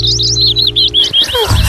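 Small brown birds chirping in quick, high, repeated tweets that run close together, with a steady tone underneath that gives way to a few lower chirps at the end.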